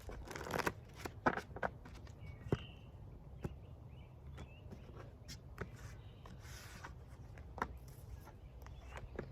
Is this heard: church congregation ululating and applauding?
no